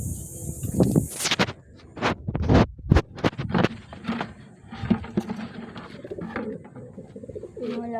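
Racing pigeon cooing up close in repeated throaty bursts, with scratching and rustling between calls and a brief high hiss near the start.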